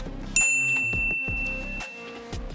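A bright bell ding rings out once, its tone lingering, over a soft rhythmic musical background.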